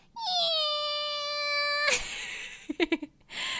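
A human voice imitates a cat's long, exaggerated meow, one drawn-out wailing call held nearly two seconds, followed by a few short yelps and breathy sounds.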